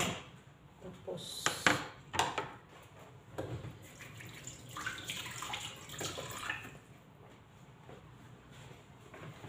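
Tap water runs and splashes into a basin to soak frozen chicken, with irregular faint splashes and clinks at close range and no clear talk.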